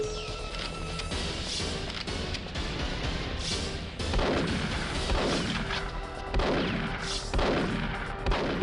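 Heavy gunfire from the Perfect Dark PC port: repeated booming shots land every second or so, loud and reverberant, over continuous game noise.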